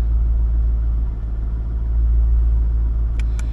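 A 1999 Chevrolet Corvette convertible's LS1 V8 idling at a wrecking yard: a steady, loud low rumble held throughout, with a couple of brief faint clicks near the end.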